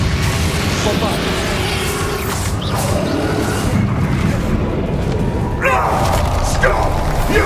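Bombarda and Confringo spell blasts from Hogwarts Legacy boom and thud amid continuous dense combat noise, with sharp impacts standing out, under spoken voices.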